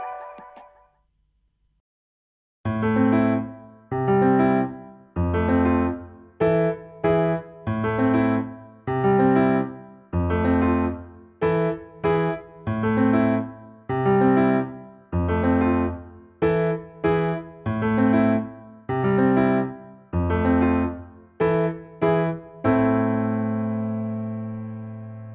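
Piano playing a song, a brief note followed by a pause, then a steady run of chords at an even tempo, close and clear, with the last chord left ringing.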